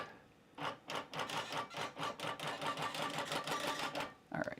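Longarm quilting machine basting across a quilt, its stitching running as a steady, rapid rhythmic clatter for about four seconds after a quiet start, ending abruptly.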